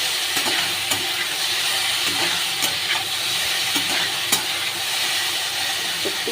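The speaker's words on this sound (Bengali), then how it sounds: "এবার আমি আলুটাও দিয়ে দেব, দিয়ে ভালো করে ভেজে নেব একসাথে সব কিছু।" Potatoes fry in a pan with other ingredients for a rohu fish curry with potato and ridge gourd, giving a steady, close sizzle with occasional stirring clicks, and no one speaks.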